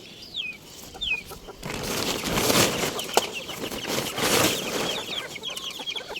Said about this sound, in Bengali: আমার মুরগি সব খাওয়ার জন্য ছটফট করছে